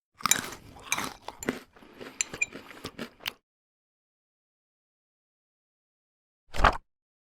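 Crunchy chewing and biting sounds, close and busy for about three seconds, then silence before one more short burst of crunching.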